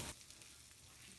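Chopped ramps and garlic sizzle in melted butter in a pan, a steady, close frying hiss after a brief louder onset.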